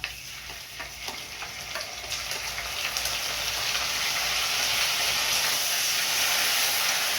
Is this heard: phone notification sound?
no